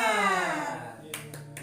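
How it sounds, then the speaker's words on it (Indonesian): A sustained, falling vocal tone from a class leads into three sharp claps or snaps of the tepuk semangat routine, short and close, spaced unevenly near the end. "ini namanya tepuk semangat"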